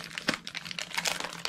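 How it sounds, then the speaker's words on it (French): Wrapping on a small gift package crinkles and tears as it is unwrapped. The sound comes as close, irregular bursts of rustling paper with brief sharp crackles. "je peux le déballer comme il faut"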